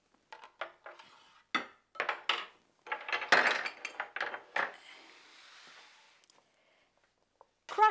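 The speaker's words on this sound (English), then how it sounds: "you can use a spice grinder, but it's always good to use a little mortar and pestle" Toasted whole spices crushed in a small mortar and pestle for an Indian tangy garbanzo salad: a run of sharp, irregular knocks and grinding clinks, close and fairly quiet, trailing off into a brief scraping pause before a final hit.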